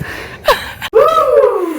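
A woman takes a sharp, audible gasp for breath after exertion, followed by a voiced breathy exhale, close and fairly loud.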